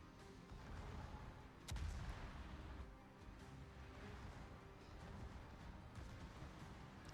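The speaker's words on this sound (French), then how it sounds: "Oh les tirs ils viennent de partout." Naval gunfire in the World of Warships video game, distant booming artillery with one sharper blast, over a continuous low rumble of the sea, faint throughout.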